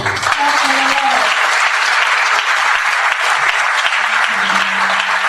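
A church congregation applauds and cheers continuously at a deliverance service, a dense, steady wash of clapping with a few voices rising briefly over it.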